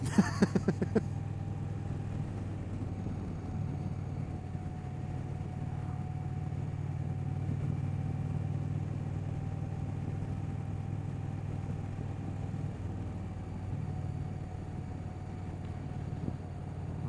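A 2025 Indian Roadmaster 112 cruiser motorcycle rumbles steadily as it rides along, a low constant drone with faint wind noise and no speech.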